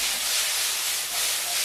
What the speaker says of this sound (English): Now, wok is very, very hot. That means it's the time to put our veg.